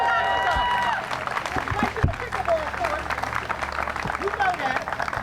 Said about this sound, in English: You heard that applause, right?